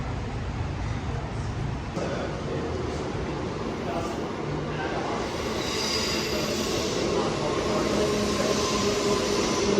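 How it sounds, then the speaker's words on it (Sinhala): Train at a city railway station in Perth near Edith Cowan University, a steady broad rumble and rolling noise running throughout, growing slightly louder and brighter in the second half, with faint talk mixed in. "මේ ඉස්සරහින් තියෙන සිටි ස්ටේෂන් එක."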